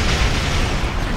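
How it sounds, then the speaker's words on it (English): Cannon scatter volley fire from a Romulan Dyson science destroyer in Star Trek Online, a dense, continuous barrage of booming low bursts that rolls on steadily at constant loudness with no talk. "Then I can do cannon scattered volley"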